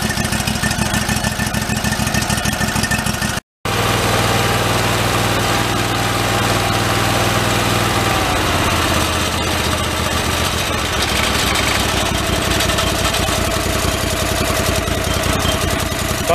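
A busted garden tractor engine, mounted on rubber bushings and suspected of a motor mount problem, idles outdoors while warming up. It gives a loud, steady, rumbling drone with a brief cutout and a slight drop in pitch partway through.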